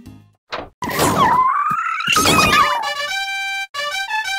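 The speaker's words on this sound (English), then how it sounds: "you need to make a chain reaction with the pigs, causing massive explosions everywhere" Chain of pig explosions in the video game Eets, loud cartoonish blasts and whooshing pitch sweeps overlapping in a rapid cascade, ending in bright ringing chime-like tones with no talk.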